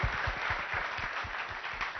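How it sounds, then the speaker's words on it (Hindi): Sustained applause from an audience at a health summit in Lucknow with yoga guru Baba Ramdev, a dense, steady wash of clapping that holds at an even, fairly loud level for the whole stretch with no talk over it. "तालियां जरा जोर से होनी चाहिए, गड़गड़ाहट देर तक सुनाई पड़नी चाहिए।"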